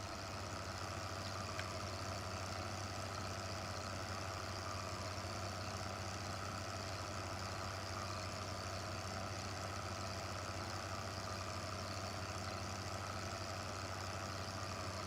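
A big tractor in Farm Simulator 15 idles with a constant low, even engine drone, with no talk over it.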